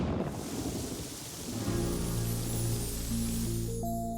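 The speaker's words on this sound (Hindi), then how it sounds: "बारिश जोरों से हो रही थी" Heavy rain pours steadily with a deep rumble of thunder rolling underneath, a dense hiss throughout while the low roar swells toward the end and tonal music creeps in.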